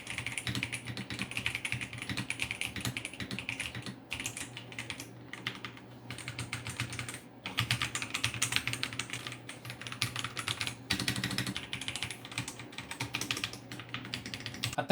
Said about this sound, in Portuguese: E esse aqui é o som do teclado antes de estar realizando todas as mudanças.